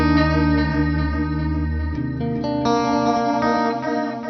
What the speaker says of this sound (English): It's like a warp delay.